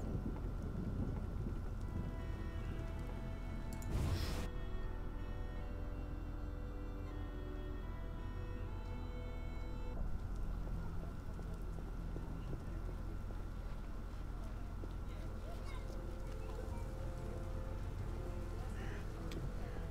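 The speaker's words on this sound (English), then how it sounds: "it's always raining in Temeria" Steady rain falls in the video game The Witcher, with a dull low rumble underneath, and a sharp crack stands out near the start.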